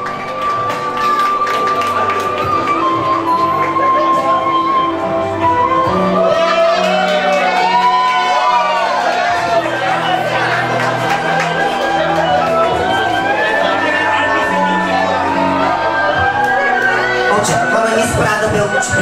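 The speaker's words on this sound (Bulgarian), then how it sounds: "Аплодисменти за мис Прада Белучи." Pageant crowd keeps clapping, whooping and shouting over loud music, a dense sustained roar of applause and cheers with scattered shouts rising above it.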